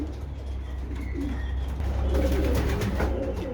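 Pigeons cooing in a damp loft, soft low coos and faint chirps over a steady hum, close but quiet.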